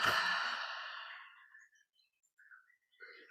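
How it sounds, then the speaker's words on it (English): A slow exhale during yoga breathing practice, a single soft breath that fades out over a couple of seconds, close and quiet, with faint small sounds afterward. "One more expansive inhale. Softening exhale."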